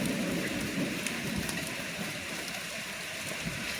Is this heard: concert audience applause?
no